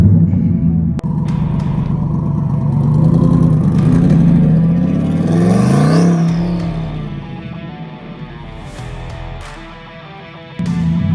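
Twin-turbo Chevy Corvette C8 tuned to about 920 wheel horsepower, engine rumbling loudly and close as it rolls and accelerates, pitch sweeping up through a strong pull before easing off and settling to a lower drone.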